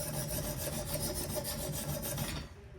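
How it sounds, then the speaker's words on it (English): A knife blade is worked back and forth on a coarse 140 grit stone in a Tsprof K03 sharpening system, giving a steady rhythmic gritty rasp of repeated close strokes that stops abruptly near the end. "I'm doing at the moment the initial setting of the angle, it's a 140 grit stone"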